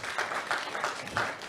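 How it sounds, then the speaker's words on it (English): An audience claps together during a reality TV show episode in Nigeria, a steady broadband patter of many hands with a few louder swells, moderately near and with no voices over it. "Can we clap for Stephen, please?"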